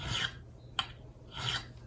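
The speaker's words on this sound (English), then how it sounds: "what we're sanding is we're sanding the tool marks out off of the frets" Gritty rasping strokes of sanding tool marks off the metal frets of a Telecaster guitar neck, two longer passes separated by a brief sharp tap, close and moderately loud.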